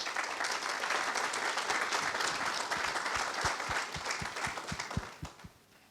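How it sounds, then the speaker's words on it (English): A conference keynote audience claps for the event's partners, a broad wash of applause that swells and then tapers, with a few last individual claps ringing out before it fades away. "if we could give them a quick round of applause"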